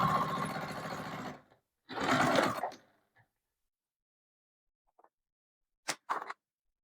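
A sewing machine runs in two short bursts of rapid stitching while basting a garment bag panel, close and clear, followed by quiet with a few faint clicks and handling sounds.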